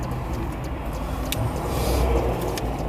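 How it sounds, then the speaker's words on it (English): Large tractor trailer passes on the road, a steady broad roar of engine and tire noise that swells slightly as it goes by, with a few faint clicks and no talk. "Huge tractor trailer coming."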